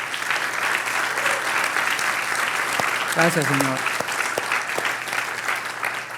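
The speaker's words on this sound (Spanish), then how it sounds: "¿No le das un aplauso al Señor por eso?" A church congregation applauds in praise, a dense, steady wash of clapping filling the room, with a voice briefly speaking over it near the middle.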